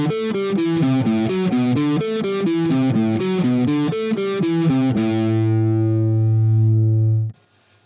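Distorted electric guitar runs a steady stepwise scale pattern in the Dorian mode, loud and close with no talking, then lands on a sustained ringing chord that holds for a couple of seconds before cutting off abruptly.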